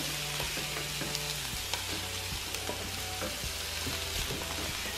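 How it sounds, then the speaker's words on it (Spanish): Onion and longaniza sausage sizzle and fry steadily in a pan, with broadband crackle, occasional stirring scrapes and pops, close and continuous with no talking. "Y rápidamente voy a estar agregando la longaniza."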